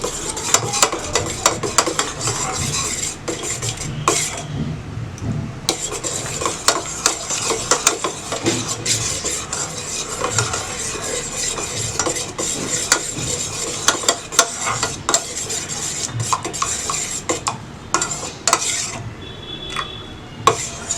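A spoon slowly stirs water in a cooking pan as it dissolves ingredients, with continuous light scraping and clinking of metal against cookware throughout, with no voices.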